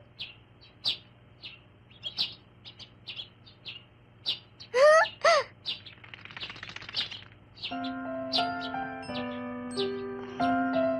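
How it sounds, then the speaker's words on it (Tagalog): Birds chirp and tweet in short, repeated bursts, with a louder call in the middle and a steady hum behind; tonal beeps join near the end. "Magandang umaga, mga ibon!"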